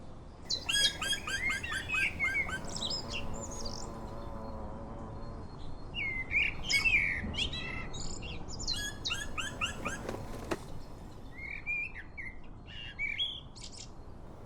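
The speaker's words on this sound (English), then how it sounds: "The pleading voice is that of a black woodpecker chick." Three hungry black woodpecker chicks begging from the nest in the Bavarian Alps, repeated high pleading calls in uneven bursts, fairly close, over a soft outdoor background.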